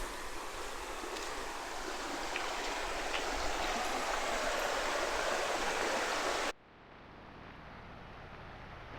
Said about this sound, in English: River's flowing nicely.